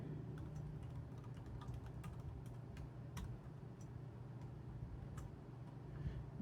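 Quiet, rapid keyboard typing, a scattering of soft clicks in irregular bursts over a steady low hum.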